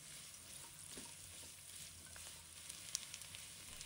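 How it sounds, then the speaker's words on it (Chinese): Shrimp and squid stir-fry in a wok with scallion, ginger and garlic, a faint continuous sizzle with light stirring scrapes and a couple of small clicks, quiet and distant, no talking. "继续炒出香味。"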